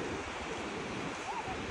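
Steady surf washing onto the seashore at Cabongaoan beach, a continuous broadband rush of waves close by with no distinct breaks, some wind noise on the microphone.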